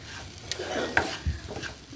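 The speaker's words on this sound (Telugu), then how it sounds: "కొబ్బరికాయ ముక్కలు వేగుతున్నాయి." Coconut pieces fry in a pan while being stirred, soft sizzling under a few scraping knocks of a spoon against the pan, close and without talk.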